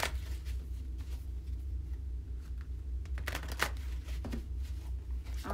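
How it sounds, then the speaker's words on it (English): Soft riffling and shuffling of a card deck, close by and fairly quiet, over a low steady background hum, with a couple of sharper flicks. "so I'm going to shuffle the deck one more time here."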